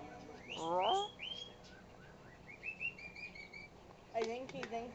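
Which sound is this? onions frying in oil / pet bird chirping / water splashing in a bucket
pet bird chirping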